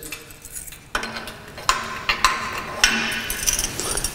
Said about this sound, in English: and then put the R pins back in the bottom, which holds them in place